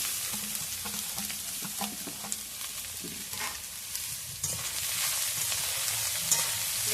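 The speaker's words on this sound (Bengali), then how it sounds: "এর মধ্যে আমি গ্রেট করে রাখা গাজর, আলু আর বাঁধাকপিটা দিয়ে দেবো।" Grated carrot, potato and cabbage fry in a pan with onion, ginger and garlic, giving a continuous close sizzle broken by scattered stirring scrapes and taps.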